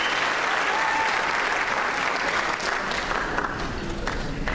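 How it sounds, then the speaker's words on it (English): A graduation audience at a high school ceremony breaks into dense, continuous applause, loud and even throughout, a broad wash of many hands with some crowd noise mixed in. "A big round of applause for these students."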